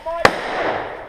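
A single sharp firework crack bursts out at a field where airsoft matches are being played, followed by a short echoing tail.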